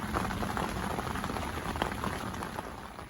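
Heavy rain pouring steadily onto a lake during a winter carp fishing session, a dense, continuous hiss of drops spattering on the water, close and even throughout with no voices.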